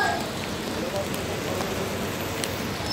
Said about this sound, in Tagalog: Ang una pong nahuhulog ay yung mga parang asin.